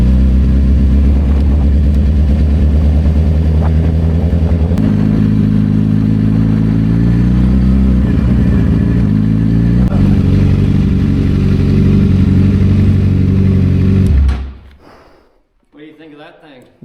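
Suzuki GSX-R motorcycle engine idling loud and close, with a deep steady rumble and a couple of rev changes, then cutting off near the end, leaving faint quieter sounds.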